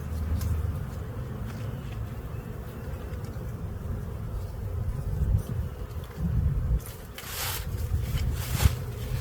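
Honey bees drone around a hive frame in a steady, close, continuous buzz, with brief louder swells as individual bees pass near.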